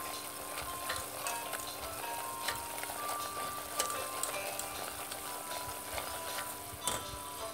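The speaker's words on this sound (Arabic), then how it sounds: "نقلي كدا البصله نتاعي مع الفرينه الفرينه اللي كان قليناها في الزيت" Onion and flour fry in oil in a pan, a quiet, steady crackling sizzle with faint scattered pops and occasional light scraping, no voices.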